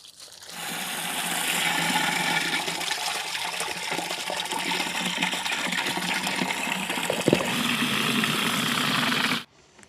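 Water gushes and churns inside a non-electric manual washing machine as clothes are washed, a loud continuous sloshing rush with a brief knock near the end before it stops abruptly.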